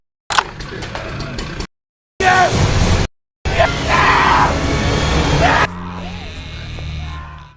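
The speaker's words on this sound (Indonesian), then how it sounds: "Sam bisa mendengar teriakan tim yang dihabisi komplotan Jim" Men yelling and screaming in panic as a team is wiped out by a gang, harsh loud shouts in bursts broken by short silences, ending in a lower-pitched rumbling passage.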